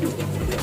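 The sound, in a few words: pigeon cooing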